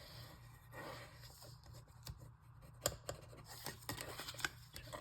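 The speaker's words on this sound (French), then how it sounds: "je vais venir découper cette partie-là" Scissors cutting through cardstock for a small slimline card, heard as faint, close snips and scraping with a few sharper clicks spread unevenly through the clip, with no voice.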